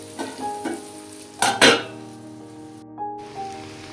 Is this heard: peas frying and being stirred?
yes